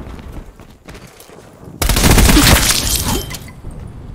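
In a Black Ops Cold War Domination match, quiet game ambience gives way to a sudden loud frag grenade blast. Dense gunfire follows and tapers off over the next couple of seconds.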